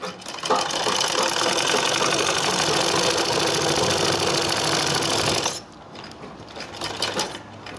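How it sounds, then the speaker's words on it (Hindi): A sewing machine stitches palazzo fabric in one long, loud, rapid mechanical whir for about five seconds, then stops abruptly, leaving quieter handling clicks and fabric rustle. "तो उसके लिए यहाँ पर हम 2 इंच का मार्जिन छ यहाँ तक हम सिलाई लेकर आएंगे।"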